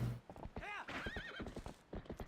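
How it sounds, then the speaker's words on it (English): Horse whinnying with arched harmonic calls and steady clip-clop hoofbeats from Zelda: Twilight Princess HD, a video game horse being spurred while riding, with a voice talking over it. "Oh, and we can spur the horse."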